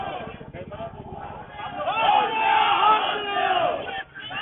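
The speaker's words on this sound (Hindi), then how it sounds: "सरकार मुर्दाबाद के नारे लगाते हुए जाते हुए" A crowd of lawyers marches out of the High Court gate in Lucknow onto the road, chanting anti-government slogans in unison; the loud, massed voices swell and surge throughout, with a brief dip near the end.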